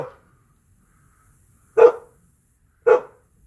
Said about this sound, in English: My dog wants to say hi.